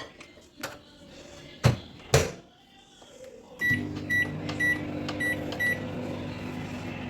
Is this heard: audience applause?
no